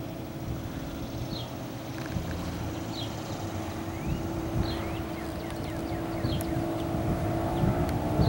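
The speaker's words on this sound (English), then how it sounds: "There we go, opening her up. You can hear the different pitch in the engine." A 1994 Grady White 209 Escape boat's engine drones steadily and loudly as it is opened up on the water, the roar rising slightly in pitch with wind noise over it.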